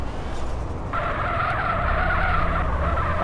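A car in GTA revs and skids, with engine roar and a screeching tire slide rising partway through, loud and continuous for a few seconds.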